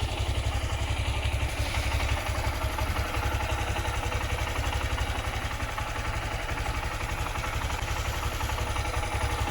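A motorbike ready for a long winter ride sits idling, its engine giving a steady, continuous low rumble with a light mechanical clatter throughout, no talk over it.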